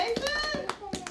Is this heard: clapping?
yes